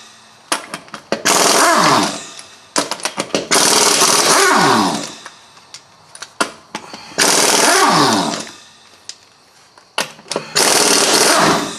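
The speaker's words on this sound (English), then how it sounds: "I'm just going to take it off with a gun." An impact gun zips off a 34mm spindle nut on a 2001 Buick Park Avenue during CV axle work, rattling out in four loud, close hammering bursts separated by short pauses.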